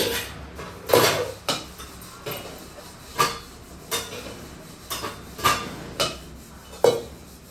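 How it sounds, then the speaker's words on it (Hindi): Metal dishes and pots, starting with a milk vessel, are washed by hand in a home kitchen, giving about ten sharp clanks and clinks at an uneven pace, close and fairly loud, with no talking. "मैं सारा बर्तन धो के यहाँ पे इकट्ठा करके रख ली हूँ"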